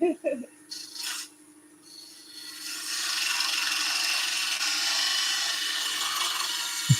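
A wood lathe spins a spindle blank as a tool cuts along it, starting with a few faint scrapes and then settling into a steady, close, hissing cut that holds to the end.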